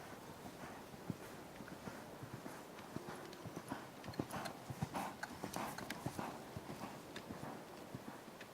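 A horse in a riding arena moves from a trot into a canter, hooves clip-clopping in a steady rhythm that quickens, close and moderately loud with no voices over it.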